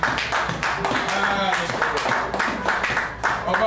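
A church congregation claps and cheers in praise, a dense, continuous run of applause that stays loud throughout, with voices calling out over and under it.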